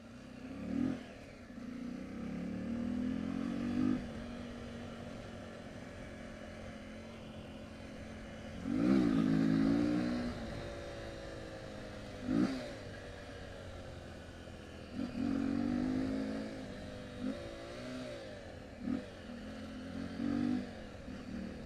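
Motocross motorcycles revving nearby, engines rising and falling in repeated bursts of throttle, with buzzing pitch sweeps from several bikes at moderate distance and no talk over them.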